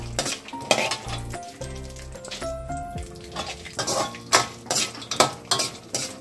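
Fox nuts (makhana) dropped into a hot pan for gud harira and roasted, with rattling, clattering pieces and metallic spoon scrapes that grow into loud repeated stirring strokes near the mic.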